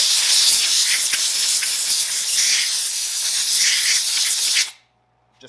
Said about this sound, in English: I just pulled out my air compressor here